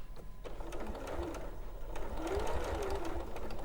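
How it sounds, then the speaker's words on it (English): A domestic sewing machine stitches steadily around a drawn rectangle on fabric, its motor hum running continuously and close with brief pauses at the ends as the seam turns, alone without talk. "we're literally just going to sew all the way around that rectangle that we've drawn on"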